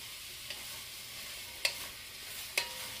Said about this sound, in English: I'll put the leaves down there at the bottom like that, so that they can sizzle in the butter